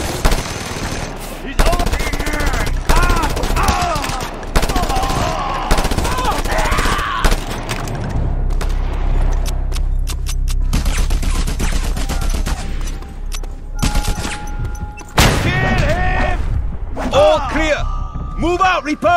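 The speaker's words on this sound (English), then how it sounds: "Mounted gun!" Mounted machine gun in Just Cause 2 rattling off in repeated bursts, loud and close, with someone shouting orders in character over the gunfire and explosions of a fight against a heavy defensive position.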